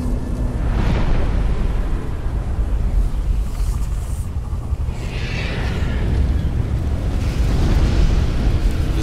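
Dark Souls fire attack setting a player ablaze during the Bed of Chaos fight, a loud sustained roaring burn with whooshing flare-ups throughout, dense and continuous.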